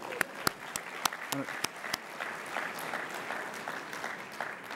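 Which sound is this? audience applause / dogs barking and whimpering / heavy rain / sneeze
audience applause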